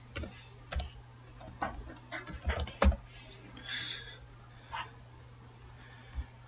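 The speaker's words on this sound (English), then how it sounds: "Yeah, I'm typing google.com." Irregular keystrokes on a computer keyboard as google.com is entered, a handful of close, sharp clicks in uneven bursts over a steady low hum, with no talking.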